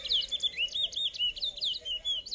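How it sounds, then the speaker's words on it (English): Competing finches sing against each other in a series of rapid, high, twittering chirps and warbles, close and clear with no talking. "These birds sings because they're competing with each other for the female."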